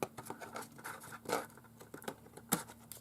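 Small scissors snip and scrape along the edge of a handmade paper purse, a quiet, close series of irregular light cuts and rustles with one sharper snip near the end.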